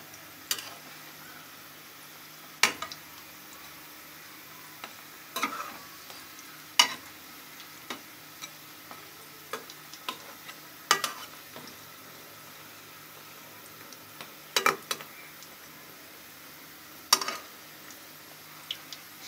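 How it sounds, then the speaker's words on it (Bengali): Samosas frying slowly in oil: a soft, faint steady sizzle broken by occasional sharp pops and crackles at irregular intervals, close by and without talk. "এভাবে আস্তে আস্তে ভেজে নিতে হবে।"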